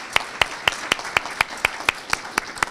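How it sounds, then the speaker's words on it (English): Slow, evenly spaced claps ring out close by during an academy graduation ceremony, about a dozen crisp individual strikes in a steady rhythm rather than a full crowd ovation. "but let's go ahead and give him a round of applause."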